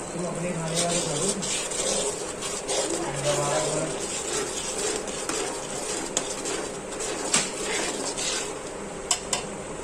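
Fish curry masala with curd being stirred in a kadai: a spoon scrapes and clinks against the metal pan in a steady rhythm, close up, with a voice speaking over it.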